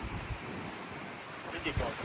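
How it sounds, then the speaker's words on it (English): Sea waves wash along the shore beside a coastal path near the St Andrews golf links in Scotland, a steady, faint rushing mixed with wind buffeting the microphone, with a brief voice near the end. "Look at that, right next to the sea."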